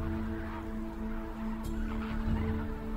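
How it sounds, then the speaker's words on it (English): A flock of birds at Lake Baringo calls over a steady background hum. The fowl-like calls are scattered and fairly distant. "For now, at least, the birds still flock to Lake Baringo."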